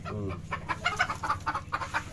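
A hill chicken clucks up close in a short run of repeated, uneven clucks, some with a higher squawking edge, over a low background hum.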